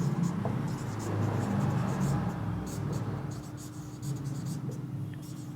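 Marker or chalk scratching across a board during a physics lesson on refraction through a prism, a steady close scraping with faint background noise and no clear talk.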